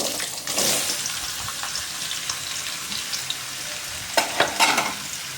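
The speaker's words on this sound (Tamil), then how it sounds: "மிளகாய் வறுபட்டதும் நம்ம சீவி வச்சுருக்கிற மாங்காயை எடுத்து இதில் சேர்த்துக்கலாம்" Dried red chilies and sliced raw mango fry in a pan for mango thokku, giving a steady loud sizzle with a few sharper crackles and stirring scrapes near the end.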